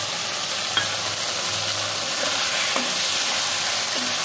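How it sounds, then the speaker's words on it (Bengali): Poppy seeds and mustard fry in a pan with half-cooked okra and potato. A loud, continuous sizzle carries throughout, with occasional soft stirring scrapes. "এই যে পোস্ত আর সর্ষেটা দিয়ে দিলাম।"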